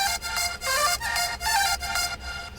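A simple EQ'd synth in a nightcore-style production repeats bright, buzzy chopped notes in a quick pulsing rhythm, with a low rumble underneath. It plays alone and moderately loud, without voices.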